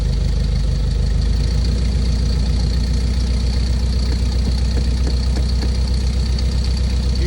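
A steady, loud aircraft engine idles at about 1,000 RPM on the ground at a rough Alaskan landing spot, its deep continuous drone holding even throughout with no talk.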